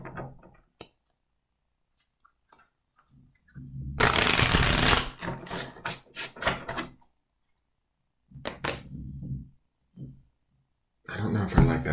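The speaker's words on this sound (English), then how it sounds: "I want to shuffle one more time." Tarot cards are shuffled close by in several crisp riffling bursts, separated by quiet gaps and occasional soft taps.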